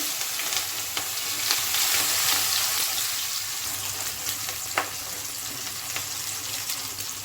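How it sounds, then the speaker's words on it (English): Onion, bay leaf, cardamom, cinnamon stick and cumin seeds frying together in a pan over low flame, a dense, even sizzle with occasional light clicks of stirring, close and steady throughout. "Now fry them together."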